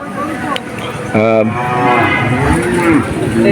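Cattle moo loudly and close at a rural livestock market in Bangladesh, one long drawn-out bellow standing out over a steady murmur of crowd chatter and market noise.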